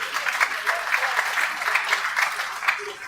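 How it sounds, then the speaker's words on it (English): An audience at a Lagos State pension commission ceremony claps warmly. The applause is dense, with rhythmic surges, and stays fairly close and moderately loud throughout the short stretch. "Please deserve a round of applause for"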